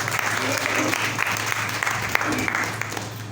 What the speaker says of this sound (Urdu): زوردار تالیاں خداوند کے لیے۔